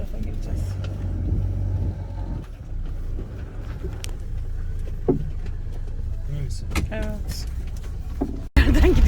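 A car approaches along a track at a seaside caravan campsite in Çeşme, its engine rumble rising beneath nearby voices, then a sudden loud burst right at the end.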